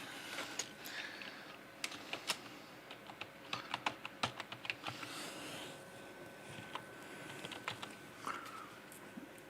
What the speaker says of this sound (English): I'm going to type in my password.